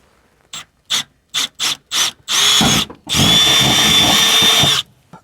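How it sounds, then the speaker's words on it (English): A power drill bores a pilot hole for a gooseneck hitch in the bed of a 2017-2022 Ford F-350, starting with several short trigger bursts before two longer, loud, steady whirring runs up close. "All right, we're gonna get started with this pilot hole."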